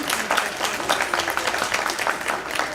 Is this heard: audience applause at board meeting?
yes